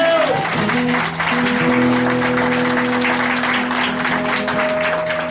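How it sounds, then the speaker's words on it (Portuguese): A church congregation claps during an evangelical service, a dense steady wash of applause at full loudness for several seconds, blended with sustained organ or keyboard chords underneath. "Uma salva de palmas para Jesus."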